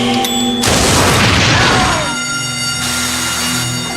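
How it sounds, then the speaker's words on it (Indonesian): A loud, close truck explosion in an action film erupts with a deep rumbling boom and crackling debris, then fades into a lingering low hum and ringing tones. "yang membuat dirinya harus merelakan truk put miliknya meledak"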